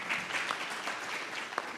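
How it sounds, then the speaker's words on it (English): An audience at a Namibian public-private business forum gives a short round of applause, dense and steady at moderate distance, with no voices over it. "A round of applause to Vogan."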